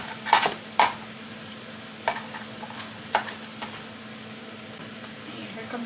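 Onion frying in a pan while being stirred, with a low steady sizzle broken by several sharp scraping clinks of a utensil at irregular intervals.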